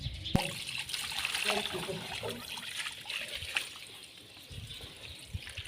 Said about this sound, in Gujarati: હાલો ક્યારાને પાણી પાવા માટે આપણે પાણી ડોલ ભરી લીધી છે